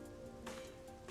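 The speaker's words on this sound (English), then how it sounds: "I really hate the rain." Steady rain falling in the video game Rain Code, a soft continuous patter with a low background hum and occasional brighter splashy bursts, heard alone without voices.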